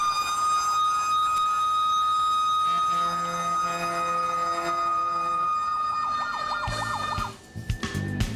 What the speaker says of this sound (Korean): 웅장한 사이렌 소리와 함께 현장으로 나서는데요